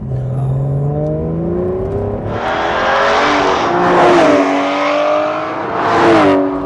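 An Aston Martin Vanquish V12 supercar engine revs and accelerates up through the gears, its pitch rising and falling loudly and close, with no talking.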